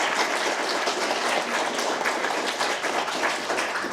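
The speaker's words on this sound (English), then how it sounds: "I want to give another round of applause because you guys are incredible" An audience at the Form Forge 2025 event claps in sustained, dense applause, an even wash of many hands that stays steady and loud throughout, with no voices standing out.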